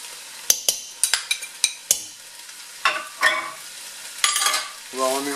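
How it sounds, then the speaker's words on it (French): Spices being stirred into chicken curry stew in a pan: a run of sharp scraping stir strokes and clinks over a steady, close sizzle, ending in a softer bubbling simmer. "On va mélanger nos épices là, et saupoudrer."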